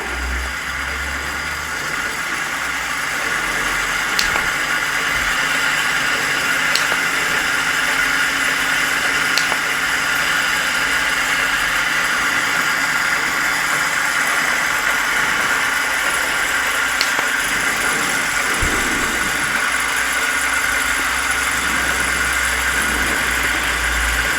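A small Chinese vertical flywheel Stirling engine runs at a steady pace with a continuous close mechanical whir and a few faint ticks throughout, and no voices.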